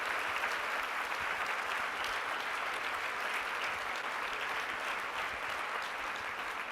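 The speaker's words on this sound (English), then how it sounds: "I'd just like you to join me in giving these people a round of applause." Steady, dense applause from a large audience at a Fortune business keynote, sustained and even throughout with no voices breaking through.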